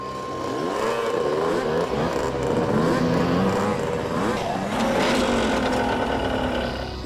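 Several motorcycles ridden by bike-mounted robbers rumble steadily and loudly, engines revving and shifting pitch as they pass close by on a road with a truck nearby, with a faint voice briefly underneath.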